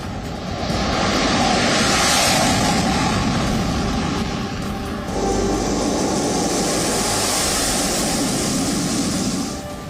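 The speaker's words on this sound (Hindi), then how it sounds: "भारतीय वायुसेना के घातक लड़ाकू विमान एक एक करके एक्सप्रेसवे पर बनी एयर स्ट्रिप पर उतरे और फिर आसमान की तरफ उड़ गए।" Indian Air Force fighter jets landing on and taking off from an expressway airstrip on the Purvanchal Expressway, a loud continuous jet roar that swells and shifts, with a brighter high-pitched whine building in the second half.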